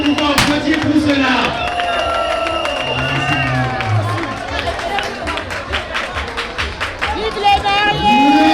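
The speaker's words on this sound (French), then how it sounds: "Est-ce que nous pouvons applaudir pour cela?" Wedding guests at an evening reception clap and cheer, with scattered crowd noise and voices early on, then a run of distinct, evenly spaced claps building through the second half.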